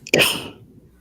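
A single short, sharp sneeze up close, a quick burst that fades fast.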